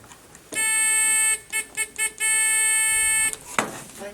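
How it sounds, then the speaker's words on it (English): A littleBits squawking alien toy built from a power module, two LEDs, a buzzer and a button gives a loud, harsh buzzer squawk in one long burst, then three short blips and another long sustained squawk, close by. "It is a squawking alien. We made it out of a power mod, 2 LED lights, a buzzer, and a button."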